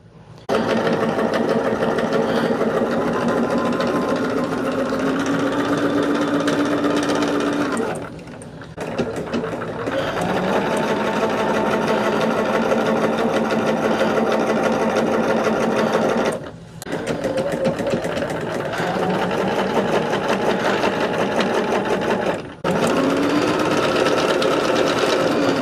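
A sewing machine runs in long steady bursts while stitching fabric for a Fourth of July project, its buzzing hum cut by three brief pauses, close and loud with no talking.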